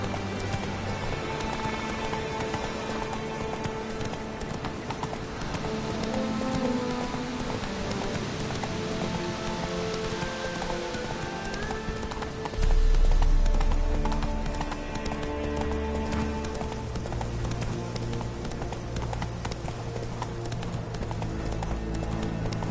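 Geralt's horse Roach galloping in The Witcher 3, rhythmic clip-clop hoofbeats under game music and ambience, with a brief louder thump midway.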